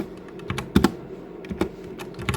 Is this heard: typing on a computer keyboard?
yes